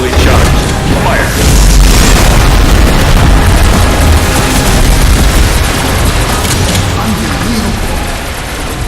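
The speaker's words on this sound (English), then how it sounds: "Its shield absorbed a full blast from the Gauss cannon." A Gauss cannon fires a fully charged blast in the sci-fi VR game Unearthing Mars 2, a loud, sustained booming roar with rumbling, crackling bursts that fill the whole stretch, with faint speech woven in.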